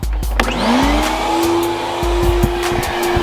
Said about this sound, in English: Turn on this vacuum.